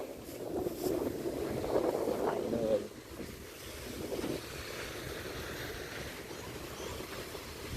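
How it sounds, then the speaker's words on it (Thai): Waves roll onto a wide beach at Rayong, Thailand, a low surging rush blended with heavy wind buffeting the microphone, louder at first and then easing into a steadier, softer wash. "ทะเลมีคลื่น"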